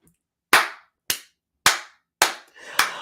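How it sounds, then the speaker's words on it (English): Five slow, separate hand claps ring out close and loud, evenly spaced about half a second apart against near silence, each with a short echoing tail. "A round of applause,"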